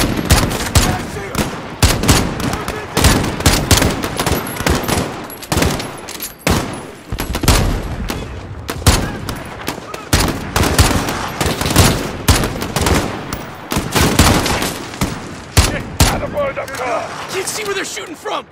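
Enemy gunfire in Call of Duty Modern Warfare across a field, sharp repeated cracks and machine-gun bursts arriving in dense, uneven volleys, close and loud, with brief gaps between bursts.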